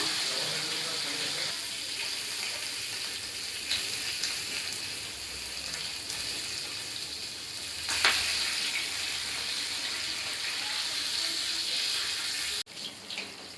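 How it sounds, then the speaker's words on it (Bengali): Pomfret pieces frying in oil, a dense steady sizzle sustained throughout with occasional louder spatters and a sharp crackle burst around the middle, ending with a brief drop and clatter, close and without speech. "তো চলুন মাছগুলোকে একদম ঝটঝট করে ভেজে নিই।"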